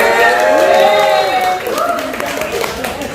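An audience at a film press conference applauds and cheers, a loud wash of clapping and crowd voices that fades somewhat partway through.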